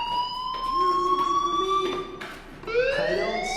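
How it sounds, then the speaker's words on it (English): Fire alarm ringing in the video game Life is Strange, a steady electronic siren tone sweeping slowly upward and restarting, loud and clear with no talk over it. "Hey, do you hear that fire alarm?"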